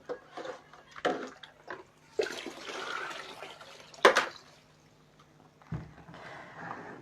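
Water sloshes and splashes in uneven bursts as fabric is soaked before tie-dyeing, with a few sharper splashes and quieter gaps between them, close by.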